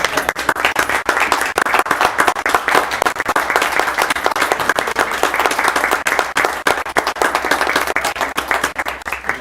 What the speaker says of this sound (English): We're going to stand up and give you a round of applause